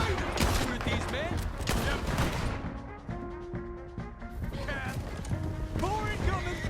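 Gunfire from the video game Red Dead Redemption 2: a dense burst of rapid overlapping shots and crashes, then sporadic gunshots, loud and close with game music and shouting voices under and between the shots.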